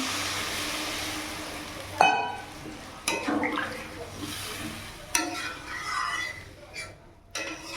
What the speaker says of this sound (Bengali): এবার এখানে জল দিয়ে দিচ্ছি।